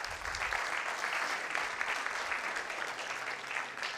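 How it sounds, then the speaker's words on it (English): A room full of people applauding at a Women At Heart benefit evening, a dense steady wash of clapping heard from a distance, quiet and unbroken for several seconds. "I think you should give yourselves a round of applause."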